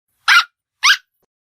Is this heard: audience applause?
no